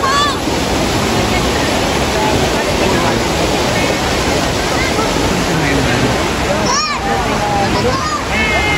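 Curug Sawer waterfall in Sukabumi roars as a constant, dense rush of falling water, loud and close, with faint voices and a few high chirps scattered through the steady wash.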